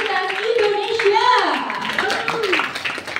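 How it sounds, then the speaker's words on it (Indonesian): Clapping from an audience at a financial literacy event at Universitas Indonesia's Faculty of Cultural Sciences, heard under loud, lively voices and cheering that dominate the foreground. "tepuk tangan paling meriah"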